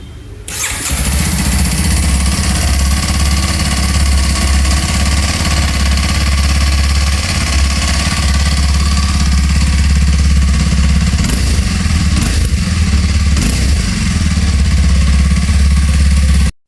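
A Kawasaki KLX 230 dual-sport motorcycle engine starts and settles into a loud, steady idle nearby, rumbling evenly for about fifteen seconds before cutting off abruptly.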